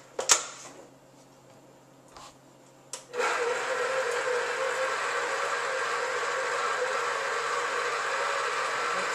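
A mixer with a paddle attachment blends cheesecake batter in a steady, loud whirring drone that starts after a few short knocks and runs on without pause.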